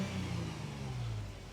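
Toyota 4Runner engine idling with a Borla exhaust, heard outside as a faint, steady low rumble with a smooth, clean tone and no revving.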